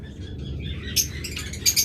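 A breeding pair of birds in a nesting cage gives a few short, high chirps over a low background hum, with two brighter calls near the end.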